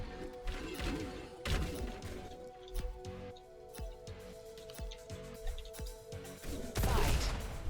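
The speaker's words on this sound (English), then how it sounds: "His rockets are too good." Rocket fire and explosions in a Diabotical arena duel: repeated sharp blasts and crashing impacts at an irregular pace, some close and loud, over a steady electronic hum, ending in a heavier burst.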